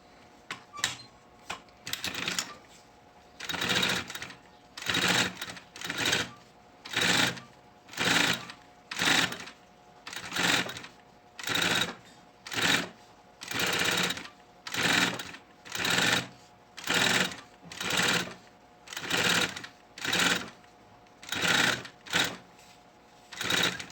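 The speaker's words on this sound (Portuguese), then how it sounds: "vamos passar uma costurinha bem na bordinha aqui" A sewing machine runs in short regular bursts, about fifteen evenly spaced runs of rapid stitching with brief pauses between, close up, as it sews along the edge of a synthetic fabric strip for a school pencil case.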